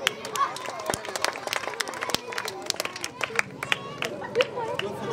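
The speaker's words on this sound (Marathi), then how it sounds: "या दोघींसाठी एकदा टाळ्या वाजवा." An audience at a felicitation event applauds two honoured women, a dense patter of many hands clapping close by, mixed with crowd chatter and voices.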